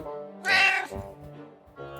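An indoor house cat gives one clear, fairly loud meow in the middle of the clip, with soft background sounds around it and a fainter call starting near the end.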